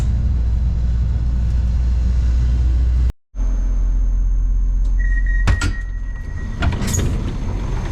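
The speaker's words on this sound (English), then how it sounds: "As the door is opening on this train." A train door slides open at Kilkenny station with a low rumble, then a chime-like electronic tone and a few clunks, close by, with no voices.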